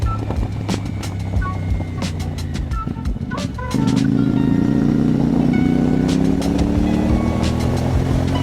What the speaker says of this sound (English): the air intake sound and exhaust note are satisfyingly throaty